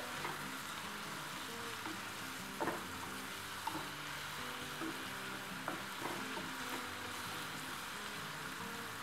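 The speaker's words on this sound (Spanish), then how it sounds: "vamos a agregar también el jitomate picado a que esto se cocine" Chopped tomato cooks in a hot pan for tacos gobernador, a steady close sizzle and crackle with a few light spoon taps and stirs on top.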